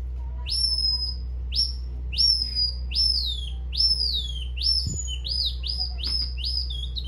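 A series of high, rising whistled chirps repeats in quick succession, a hunting call device imitating birds, over a low steady hum.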